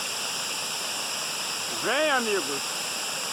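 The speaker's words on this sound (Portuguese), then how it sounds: "Essa é a Cachoeira de Cambuci, noroeste do estado do Rio de Janeiro." Cambuci waterfall in northwest Rio de Janeiro state pours with a steady, even rushing roar, and a man briefly calls out over it partway through.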